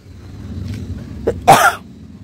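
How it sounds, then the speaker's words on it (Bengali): Someone with an itchy throat coughs once, a single loud close cough after a softer throat sound, with nothing else around it. "গলাটা খুসখুস করছে তাই বারবার কাশি আসছে"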